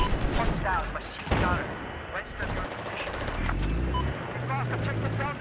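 Gunfire in a tank video game, with bursts of rapid shots and heavy engine rumble filling the scene while someone talks over the action.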